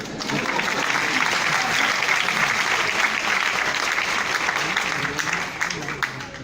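A crowd breaks into sustained applause, a loud, dense patter of many hands that holds steady throughout and thins slightly near the end.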